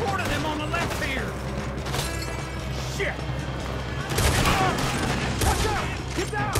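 A gunfight in Red Dead Redemption 2 brings rapid, overlapping gunfire and crashing impacts that swell louder toward the end, with voices talking over the shooting.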